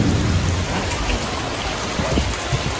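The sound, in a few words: heavy rain with wind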